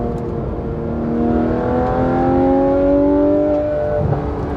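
A loud, raspy car engine with catless exhaust and Dundon race headers revs and drones steadily, its pitch climbing then easing, close and continuous with no talking.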